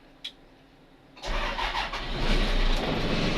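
A dump truck engine cranks and catches after a brief click, then settles into a loud, low rumbling idle close by.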